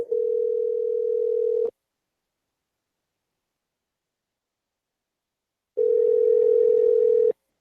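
A telephone ringback tone sounds as a call rings, two loud steady tones separated by about four seconds of silence, with nothing else heard.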